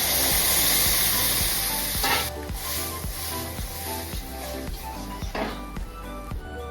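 An egg fries in a pan with a bright, steady sizzle, punctuated by a regular series of soft ticking knocks and a couple of louder hissing bursts.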